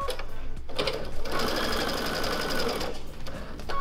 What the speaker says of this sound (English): I'm just going to continue sewing